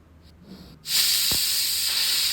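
A pressure cooker cooking mushroom pulao lets out a sudden, loud, steady hiss of steam that begins after a quiet moment and keeps going, close by and with no one speaking.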